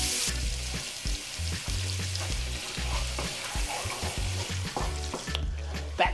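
Fresh garlic frying and sizzling in melted butter for Jamaican brown stew chicken, a steady close crackle and hiss with repeated stirring scrapes throughout and no talking.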